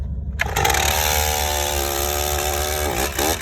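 A 25-year-old Stihl MS440 chainsaw firing up after a brief quiet moment, then running at a loud, steady buzzing idle close by, with a short dip and revving near the end.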